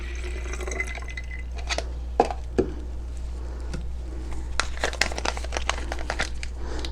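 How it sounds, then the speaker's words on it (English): Lavender essential oil mixture is poured into a plastic spray bottle, with faint trickling and a few sharp crinkly clicks over a steady low hum, no voices. "So you pour into your spray bottle."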